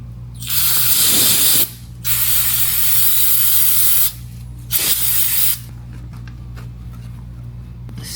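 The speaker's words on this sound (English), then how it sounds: "So let's use some brake cleaner and clean up the speed sensor." Brake cleaner sprays in two long, loud hissing bursts and one short burst onto a speed sensor on an R34 Skyline, each blast close and harsh, with quiet pauses between and no talk.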